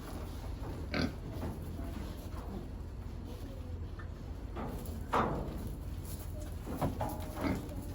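Pigs being moved to a new pen on a farm give scattered short grunts and squeals, several spaced bursts over a steady low outdoor background, fairly close.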